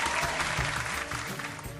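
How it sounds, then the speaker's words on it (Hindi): An audience at a neighbourhood ward event breaks into continuous, dense applause, loud and sustained for the whole moment, with a faint low hum underneath. "सभी लोग तालियां बजाने लगते हैं।"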